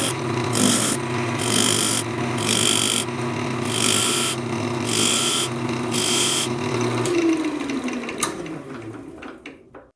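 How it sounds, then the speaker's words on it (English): A fine parting tool cuts shallow grooves into scrap-wood jaws, making repeated rhythmic bursts of rasping, scraping cutting noise, close and loud, with brief gaps between passes. The sound winds down at the end. "I'll just use my fine parting tool to make very shallow grooves on all of those lines"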